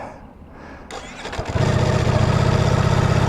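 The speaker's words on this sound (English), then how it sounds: "First time taking my brand new Streetfighter Lamborghini edition for a ride" A brand-new Lamborghini edition Streetfighter motorcycle starting up: a short crank and then a loud, close engine firing into a steady rumbling idle.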